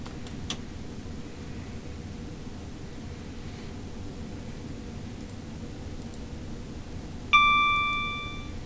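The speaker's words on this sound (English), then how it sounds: "So, approaching a green, ping, ding, bell sound, not a horn sound." A single clear AWS bell chimes in Train Sim World as a green signal approaches on the Brighton Main Line. It rings out bright and ringing over a steady cab hiss and slowly fades away.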